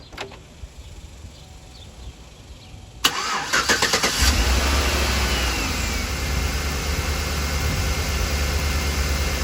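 A quick whir of the starter cranking on a Chevy Tahoe with a weak battery, then the engine catches and settles into a loud, rumbling idle that continues steadily.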